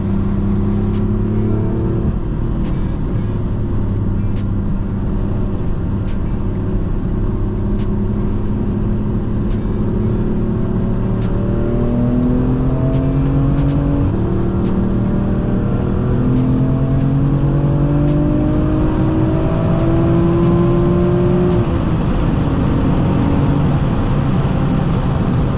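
A manual BMW M4 F82 is driven hard up a snowy mountain road, heard from inside with a window cracked. The engine note climbs repeatedly through gear changes, with drops between shifts, and stays loud and continuous with no talk.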